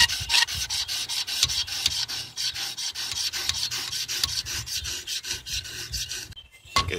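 Scissor edge being sharpened on 200 grit Wicked Edge stones, a close rhythmic rasping as the stones are stroked rapidly back and forth for several seconds, with no voices.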